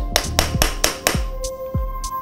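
Hammer blows seating a snug-fitting part onto a Toyota W58 five-speed manual transmission during a rebuild: five or six sharp metallic taps at a steady rhythm, close and fairly loud, with no talking.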